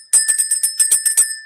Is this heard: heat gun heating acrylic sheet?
no